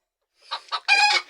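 Chickens clucking while being fed: a couple of short clucks followed by a longer, louder call, close and clear, with no talk.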